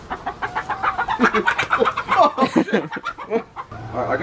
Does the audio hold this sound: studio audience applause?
no